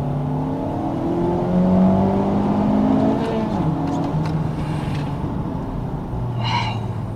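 A 2019 Honda Civic Type R with about 320 horsepower blips its engine as it downshifts, the revs sweeping up and falling in several close, loud pulls over a continuous road drone, with a brief high whir near the end.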